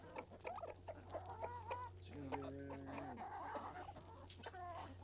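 Guinea fowl on a homestead call with loud, rasping, repeated cries as they run up close, a dense chattering flock over a low hum.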